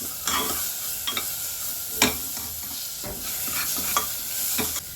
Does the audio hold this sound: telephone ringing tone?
no